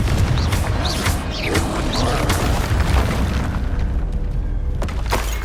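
A Confringo fire spell blast in Hogwarts Legacy, a dense rumbling boom that fills the moment and rolls on steadily without voices.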